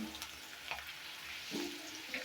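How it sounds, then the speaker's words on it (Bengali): Aair fish sizzling and frying in hot oil in a village kitchen, a steady crackling hiss with occasional spattering pops, fairly faint and close. "তো মাছটা ভাজছি, দেখুন কত সুন্দর করে ভাজা হয়েছে, কিন্তু তেলের ছিটা আসছে"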